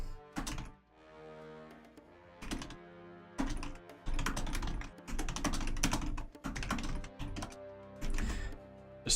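Typing on a computer keyboard in quick irregular bursts of crisp key clacks, separated by short pauses, close and clear with no talking.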